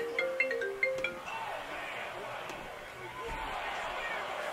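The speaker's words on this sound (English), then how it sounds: "I missed some of them because my phone rang." A short electronic phone ringtone of a few quick tones near the start, partly masked by a wrestling broadcast with crowd noise and speech that continue afterward.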